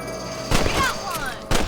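Gunfire from a rifle in the Red Dead Redemption western video game, aimed at rabbits: two sharp broadband shots about a second apart, close and loud over an ongoing game soundtrack.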